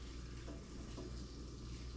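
Steady hiss of onions frying in a hot pan, a continuous crackling sizzle at moderate volume with no talking.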